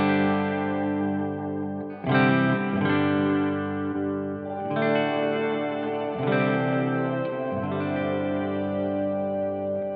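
An electric guitar plays through an ambient Headrush rig, sustained chords with chorus, distortion and reverb tails, each new strum swelling over the last in slow rhythm, alone with no talking.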